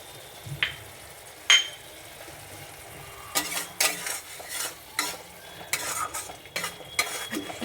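Fish masala for a Bengali-style katla kalia sautéing on low flame, soft sizzle broken by bursts of spoon scraping and stirring against the pan, with a couple of sharp metal clinks early on, near and unvoiced.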